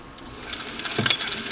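A Singer 301 sewing machine stitches fabric in a short burst, its rapid mechanical whir rising from quiet to a busier, louder run, with a brief clack near the end and no talk.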